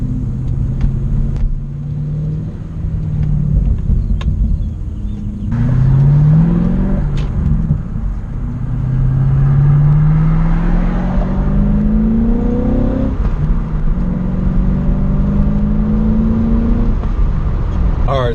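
A high-mileage BMW E60 M5 out on the road, its engine rumbling close and loud with several rising revs as it accelerates through the gears, the pitch climbing and falling in repeated sweeps.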